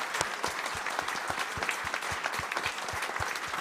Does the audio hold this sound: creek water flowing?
no